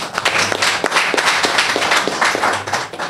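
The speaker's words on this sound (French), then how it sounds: "Nous, en tant que jeunes, j'aimerais qu'on applaudisse pour nous-mêmes d'abord" Dense, steady hand-clapping from a room of young people at a press conference, close and lively, with individual claps audible throughout the crowd's applause.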